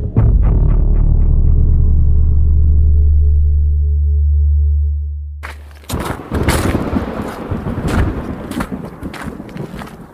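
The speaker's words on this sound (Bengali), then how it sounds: "যা মেঘ ডাকছে তাতে মনে হচ্ছে এক্ষুনি বৃষ্টি নামলো বলে।" A thunder sound effect in a Bengali audio drama: a deep, loud rolling rumble that slowly fades over several seconds, then gives way to a rough, noisy wash.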